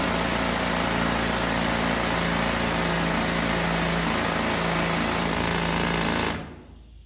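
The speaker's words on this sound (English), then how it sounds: "That's an S58 drill." A jackleg rock drill, an S58, hammers continuously at close range inside the Old Hundred Mine in Silverton, Colorado, a loud, dense rattling roar that cuts off abruptly near the end.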